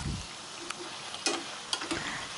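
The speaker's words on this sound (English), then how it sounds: "We have to keep flipping or turning the slices, otherwise they will get burned." Raw banana chip slices fry in hot oil with a soft continuous sizzle, punctuated by several sharp clinks and scrapes as the slices are turned, alone without talk.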